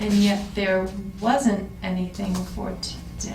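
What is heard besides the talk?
None of the usual background noises is heard.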